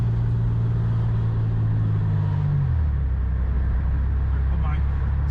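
Inside a car on the move, a steady engine drone and road rumble shift down in pitch partway through as the drive goes on, with people talking over it.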